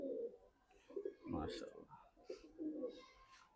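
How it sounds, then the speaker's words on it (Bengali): Pigeons coo in a loft in Dhaka, Bangladesh, giving soft, low throaty calls in several short bursts at close range. The calls rise and fall over a faint background hiss. "এই কবুতরটা আমাদের পাশের এলাকার একটা দোকান থেকে সংগ্রহ করা"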